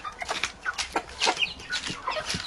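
Domestic turkeys and other poultry on a village farm in late autumn give a string of close, overlapping calls and clucks, repeated in quick irregular bursts with no talking.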